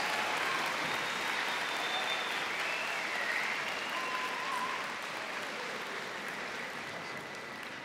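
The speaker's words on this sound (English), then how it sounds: "Let's give one more huge round of applause" Sustained applause from an audience at a high school senior convocation, honoring graduating seniors; dense, steady clapping that fills the space and eases slightly toward the end.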